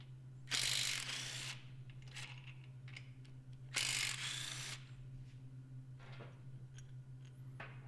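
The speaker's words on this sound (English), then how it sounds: "Now we're going to remove the 4 bolts that are holding the axle caps on either side of the" A ratchet wrench clicks as it backs out the axle cap bolts on a Yamaha golf cart's differential housing, with two bursts of rapid ratcheting and a few fainter clicks over a low steady hum.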